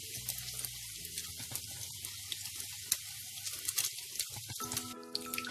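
Pork loin in a potato coating fries in a pan over moderate gas, giving a steady close sizzle with small crackles and pops and no talking.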